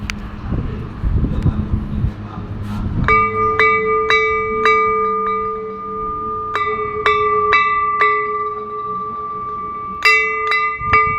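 Many bells ring at the great pagoda, the world's largest, with clear metallic strikes chiming irregularly and overlapping from about three seconds onward over a low rumble of wind and ambient noise.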